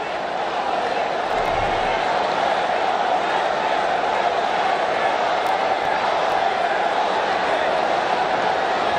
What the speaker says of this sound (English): Outstanding crowd here at this stadium today, and they're very vocal right now.